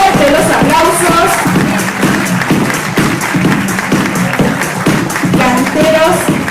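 A loud audience applauds continuously for a newly named cultural ambassador of Villa Ángela at an election event, dense steady clapping mixed with crowd cheering and a voice over the top.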